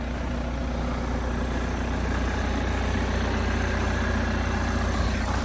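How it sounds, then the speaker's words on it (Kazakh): A 2017 diesel car engine idles steadily at close range, a continuous low rumble with a fine mechanical clatter that holds even throughout, with no voices. "Мисалы азыр мына мотору мощный оталып турат."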